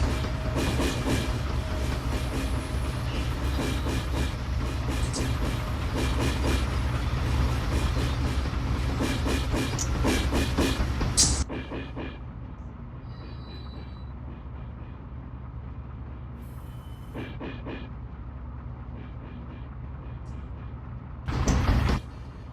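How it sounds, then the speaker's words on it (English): Locomotive traction motor in the Run 8 train simulator game during a yard transfer: a loud, steady mechanical drone with rail clatter that drops sharply in level about halfway through, then continues more quietly, with a brief burst near the end. "So you're saying that sound is the traction motor most likely"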